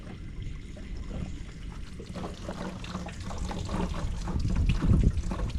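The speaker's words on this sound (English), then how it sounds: "put our garden hose here and just go ahead and add some water to the water tank" Water gushes and splashes steadily from a garden hose into a Class A RV's water tank, a continuous rushing flow that grows slightly louder and more turbulent toward the end.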